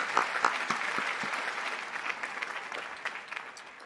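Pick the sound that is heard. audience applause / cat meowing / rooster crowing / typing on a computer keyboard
audience applause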